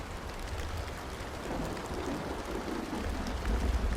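Steady soft rain patters against window glass, a dense continuous hiss of fine drops with low rumble beneath, slightly swelling toward the end, no voices.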